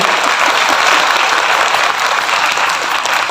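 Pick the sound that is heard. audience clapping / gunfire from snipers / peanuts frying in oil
audience clapping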